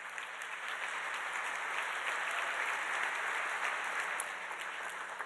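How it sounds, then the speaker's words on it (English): Broad crowd applause at a charity benefit program for sending kids to camp, an even wash of many hands clapping at once, steady and somewhat distant. "So give yourselves a round of applause."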